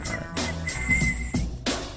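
A few short, high whistled notes come in bursts with brief pauses between them, fairly quiet.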